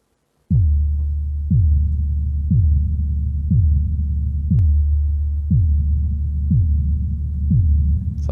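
Realitone Nightfall Kontakt instrument with heavy added reverb, a deep pulsing tone that strikes about once a second, each hit dropping quickly in pitch like a throbbing heartbeat, steady and alone with no voices.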